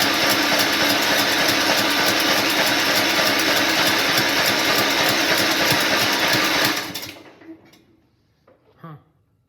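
The engine of a custom Wheel Horse 1073 garden tractor cranks with a steady, fast mechanical churning for several seconds, then cuts off into near silence with a faint clunk.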